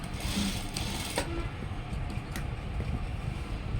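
A sewing machine stitches a school uniform chudidar coat, running in a fast, steady mechanical rattle close up with a few sharp clicks along the way and no speech.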